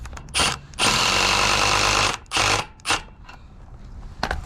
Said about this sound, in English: put your drill on reverse